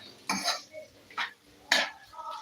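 A utensil stirs mashed potato into corn samosa filling in a pan, making three short, close scraping strokes with brief quiet gaps between them.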